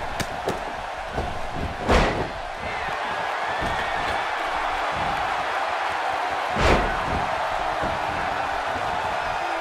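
Arena crowd at a video game wrestling elimination submission match in Milwaukee, a steady loud roar of cheering and murmur with two sharp slams standing out near the start and middle.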